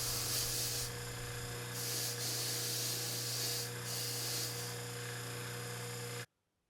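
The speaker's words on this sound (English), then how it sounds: "I'll use this wire brush on a motor. Takes some time, but it will remove the flux." Motor-driven wire brush scrubbing welding flux off a workpiece, a loud continuous steady hum with a rasping hiss that swells in pulses, then cuts off abruptly near the end.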